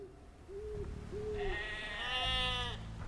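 A sheep in the Age of Empires II video game gives a few short bleats, then a longer wavering one, close and fairly clear over a low background.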